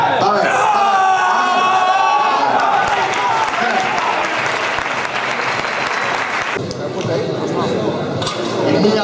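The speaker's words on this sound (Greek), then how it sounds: "Ένα χειροκρότημα λοιπόν." Audience applause at a powerlifting squat contest after a 200 kg squat, steady loud clapping and crowd noise across the whole stretch with some shouts and cheering mixed in.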